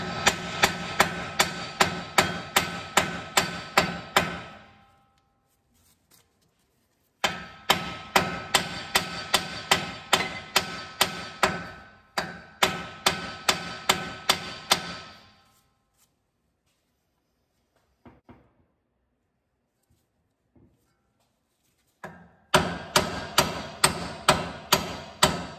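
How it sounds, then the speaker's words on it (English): Rapid series of sharp metal hammer strikes on the side of a steering knuckle to pop a tie rod loose on an 88-98 Chevy 1500 truck, coming in several bursts separated by quiet pauses. "hit the side of the knuckle here a few times, and this tie rod should just pop out"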